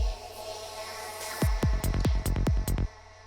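Psytrance fill made in Ableton Live 10, with a run of punchy kick drums, one of them placed off-time, fired in a quick uneven burst over a soft electronic pad. No voices.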